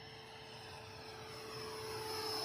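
A Freewing Eurofighter Typhoon RC jet with an upgraded FMS 90mm 1900kv electric ducted fan flies past, a steady whining roar with a high tone that builds slightly louder toward the end, with no talk.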